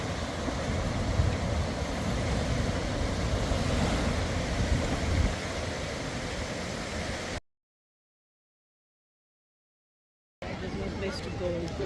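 Surf washes ashore at Laxmanpur Beach 1 on Neil Island in the Andamans, a steady close roar of waves mixed with wind buffeting the microphone, broken by a few seconds of dead silence before resuming.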